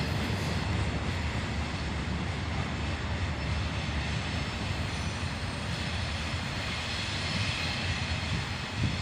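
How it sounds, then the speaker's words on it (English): A freight train rumbling across a bridge, a steady low roar and rolling clatter heard at a distance for the whole stretch, with no voices. "the tail end of the train across the bridge"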